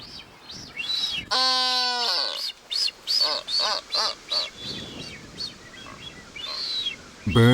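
Galapagos seabirds, including blue-footed boobies, give repeated nasal calls and whistles in a rhythmic series, loud and close, with one long rising harmonic call near the start and no talking.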